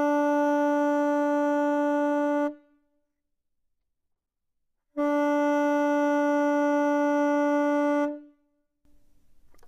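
Two long, steady saxophone notes, each ending with a clean tongue stop, separated by a pause of silence.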